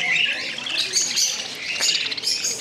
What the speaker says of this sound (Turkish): Kuşlara bakın. Muhabbet kuşları.